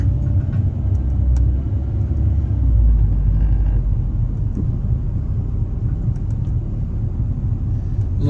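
A car drives through an older residential neighborhood in Orono, Minnesota, heard from inside as a continuous loud low road rumble and engine drone.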